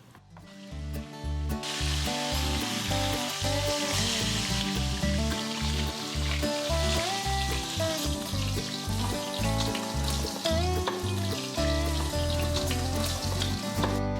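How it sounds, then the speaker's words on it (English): Short ribs sear in a hot pan with a constant crackling sizzle, partly masked by loud, rhythmic background music that plays throughout. "While the meat is searing away, give it the time it needs to get beautifully golden on all sides."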